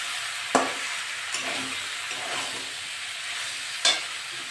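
Prawns and vegetables (pumpkin stems, potato, eggplant, pointed gourd) frying in spiced oil in a pan, giving a steady close hiss. A few sharp clinks of a utensil on the pan cut through, one near the start and one near the end.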